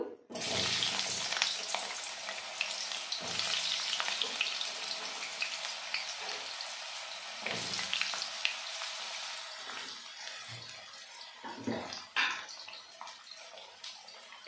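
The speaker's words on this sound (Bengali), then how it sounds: "একটু হলুদ দিয়ে নিয়ে আলুটা লাল লাল করে ভেজে নেব" Cut potatoes frying in hot oil with salt and a little turmeric, for a vegetarian cauliflower-potato dalna, giving a steady close sizzle that fades and flares with occasional stirring clinks and scrapes, no voices.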